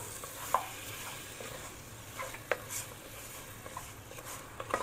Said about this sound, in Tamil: மட்டனை 5 மினிட்ஸ் வதக்கிக்கோங்க